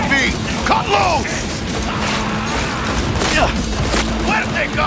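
Gunfire erupts in Cyberpunk 2077 amid loud, dense combat, with sharp crashing bursts and clattering mechanisms around one second and again near three and a half seconds, layered under music and game effects throughout.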